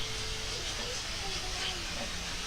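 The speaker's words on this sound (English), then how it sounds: "Hear that sizzle?" Steady hissing sizzle of bacon cooking on a hot 28-inch Royal Gourmet PD1300 griddle, broad and close, with a faint voice underneath.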